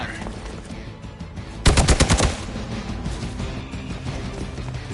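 Turrets open fire in the Marvel Midnight Suns video game: a short, loud burst of rapid machine-gun shots over a busy background of game noise.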